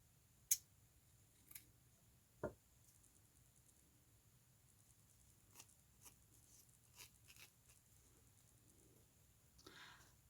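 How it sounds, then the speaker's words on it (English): Scissors snip through lace in a quiet room, a few sharp, separate cuts spaced out with soft ticks and rustles between them. "let's cut this lace"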